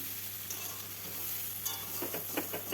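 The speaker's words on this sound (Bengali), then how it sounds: "ভালোভাবে ভেজে নেব এইভাবে।" Green chillies and a spice mixture fry in a pan for a Bangla jackfruit dish, giving a steady soft sizzle with a few light stirring scrapes near the end, and no voices.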